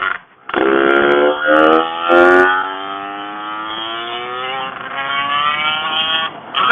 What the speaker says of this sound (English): it's accelerating faster than I need already